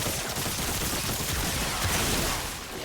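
Dense, sustained gunfire from a Warframe battle, with overlapping shots forming a steady, loud barrage that stays close and continuous for the whole stretch and fades slightly at the end.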